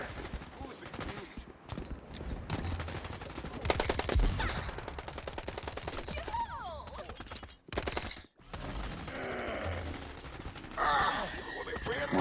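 Gunfire from weapons in the video game Urban Heat, heavy bursts of shots layered with game effects and a voice, loud and continuous with a few brief drops.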